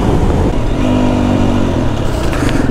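A Husqvarna dirt bike on a sunset ride revs hard through the gears with clutch-up shifts, a loud close engine roar whose pitch climbs, drops and climbs again, with wind noise over it.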